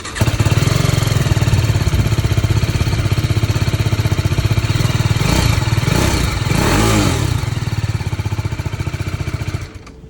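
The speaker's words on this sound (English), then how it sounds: "That was the exhaust note of the BMW G310RR." A BMW G310RR motorcycle engine idling with a loud, throbbing exhaust note, briefly blipped up in revs midway before settling back and cutting off.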